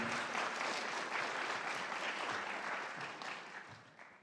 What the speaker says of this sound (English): let's just start with a little bit of a round of applause for Reverend Averill, who's going to introduce the program tonight